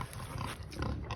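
Mangalitsa pigs on a farm give close, rough grunts in a short, dense burst, several overlapping snorts with no talk.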